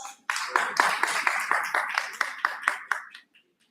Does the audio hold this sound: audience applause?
yes